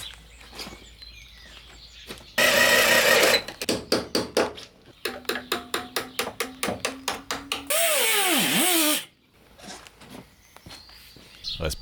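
Body metal on a 1991 Peugeot 605 3.0 is cut in a garage, with loud, harsh bursts of a cutting tool and a run of rapid, evenly spaced pulses between them.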